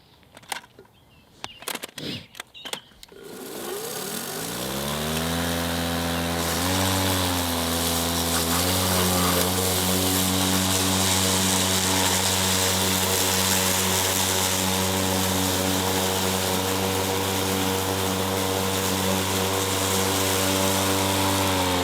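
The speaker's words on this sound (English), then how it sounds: "I'm gonna go slow, and I'm not gonna use the self-propelled section of the mower" DeWalt electric lawnmower starting up and running steadily while cutting grass, a loud continuous motor whine with a strong even hum that holds for about twenty seconds after a few brief knocks at the start.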